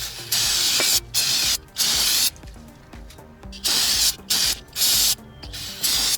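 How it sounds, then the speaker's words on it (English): Brake cleaner sprayed from an aerosol can onto a brake rotor from a 1995 Daihatsu Hijet S110P: repeated loud hissing bursts, each lasting under a second, separated by short pauses. "use some brake cleaner, or even if you have brake clean, that's fine as well, and clean this up to remove the factory coating"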